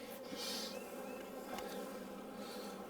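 Honeybees hum in a dense, steady drone around the hive during an inspection, with individual buzzes rising and falling over the swarm.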